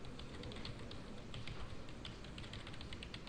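Computer keyboard keys are pressed in quick light taps, a soft continuous patter of clicks at low volume with no speech.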